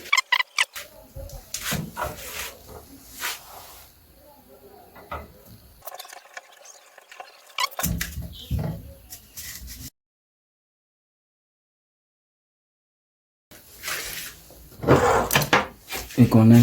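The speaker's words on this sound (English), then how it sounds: "You fix the clamp on the table, then you take the stand and clamp it here." A microphone stand clamp being fixed to a table gives close mechanical ratcheting clicks and knocks, with a voice in between and a stretch of near silence before the handling resumes.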